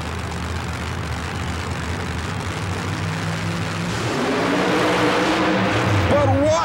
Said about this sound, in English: here's Mark Watrous and the supercharged Ford Thunderbird funny car, sponsored by Rancho Shock Absorbers